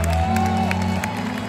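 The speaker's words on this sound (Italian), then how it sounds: "un bel applauso per Žeko." Crowd clapping and cheering for the drummer at a live Christmas concert in 2023 in Koper, Slovenia, mixed beneath a held band chord that drops away near the end, with a few whoops.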